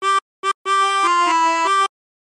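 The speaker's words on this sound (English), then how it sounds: "how to play the Battle Hymn of the Republic on a chromatic harmonica" A Battle Hymn of the Republic phrase played on a chromatic harmonica: a few short separate notes, then a sustained run of changing tones, clear, close and alone.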